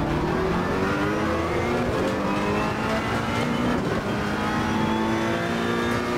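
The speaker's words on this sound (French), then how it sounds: "On entend pas mal que ça tape avec la suspension." A Ferrari 488 GT3 race car laps the bumpy Monza circuit in Assetto Corsa Competizione, its loud, steady engine roar shifting in pitch while the suspension knocks and thumps over the uneven surface beneath it.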